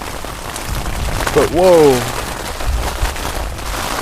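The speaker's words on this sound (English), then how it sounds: "what you're hearing is a thunderstorm that just came out of nowhere." A sudden night thunderstorm with rain and hail fills the clip with a steady, dense hiss of falling water; a man exclaims briefly over it.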